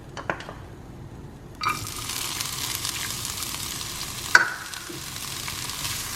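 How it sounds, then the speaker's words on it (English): Steady sizzling of onions frying in oil in a hot pan, a continuous hiss with a couple of sharper crackles and clinks partway through. "Now that it's sizzling, it's ready."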